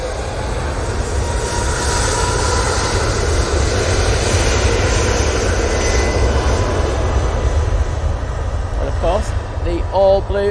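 Ryanair jet airliner with all-blue winglets at Manchester Airport, its steady broadband engine roar filling the whole stretch at close range, with a voice talking over it near the end.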